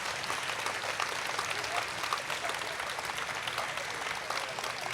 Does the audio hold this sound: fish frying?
no